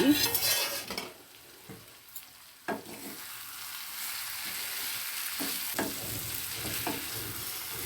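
Bitter gourd fries in milk in a pan with a low, steady sizzle, opening with a louder burst of spatula scraping and clinks, then settling into quieter frying with intermittent stirring taps.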